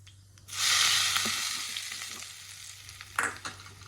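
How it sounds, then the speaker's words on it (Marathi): Hot mustard seed and cumin tempering poured into potato pancake batter gives a sudden loud sizzling burst that slowly fades, followed by a few clinks of the utensil, close up and without talk. "आता हा तडका आपल्याला आपण बॅटर तयार केलं होतं त्यामध्ये टाकायचं"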